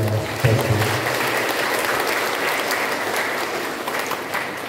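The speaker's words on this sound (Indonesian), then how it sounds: "kita tepuk tangan untuk kedua ketua stasi" A church congregation applauds two station leaders during a Christmas Day Mass at Watu Paci, steady, dense clapping filling the room at moderate loudness throughout.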